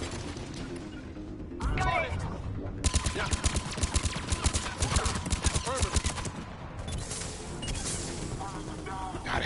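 Rapid turret gunfire crackles in the Mass Effect 3 video game, dense bursts of fast shots through the middle of the clip amid combat noise, loud and close, with a voice speaking at times.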